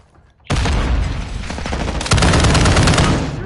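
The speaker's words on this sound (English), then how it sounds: "Grenade! Watch out!" Loud grenade blast in Modern Warfare 2 bursting out amid rapid, sustained automatic gunfire, close and intense, with a sharper surge of shots toward the end.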